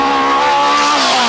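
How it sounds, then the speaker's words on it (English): A rally car engine from the Extra Vision team at the 1990 Killarney International Rally of the Lakes drones loud and steady at high revs, its pitch dipping then climbing again, with no voices. "the Extra Vision car sounds healthy again"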